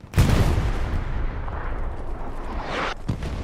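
Explosions and gunfire in a competitive multiplayer video game match: a heavy blast opens, followed by rumbling bursts of shots and a second sharp burst near the end, loud and without talk.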